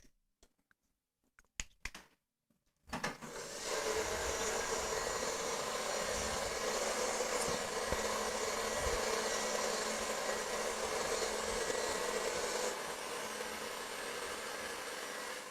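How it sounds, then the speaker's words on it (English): A handheld blow dryer runs steadily at close range while short hair is dried during a pixie cut. It roars on continuously for about twelve seconds after a few soft clicks and handling noises at the start. "Now, while I'm blow drying, I'm trying to push these sides."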